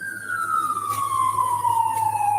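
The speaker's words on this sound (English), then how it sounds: "that sound that you hear, they're calling the ambulance for the girl that's in the car" A loud ambulance siren wails nearby as one long, steady tone slowly falling in pitch, with no other sounds over it.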